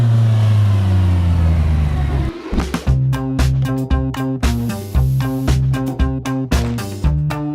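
Campagna T-Rex 14R three-wheeler, an engine note sliding down steadily, then a break into loud, close, rhythmic pulsing bursts as it pulls away hard and revs repeatedly.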